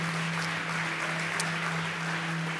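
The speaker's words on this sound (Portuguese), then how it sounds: "Vamos aplaudir quem está em casa com a gente online também." Continuous audience applause fills a church service at Lagoinha Orlando Church, a dense, even wash of clapping from a large congregation over a low steady hum, with no break across the short stretch.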